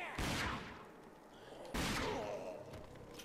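Gunfire in the video game Rage: two heavy, close blasts spaced about a second and a half apart, each followed by a long rumbling decay.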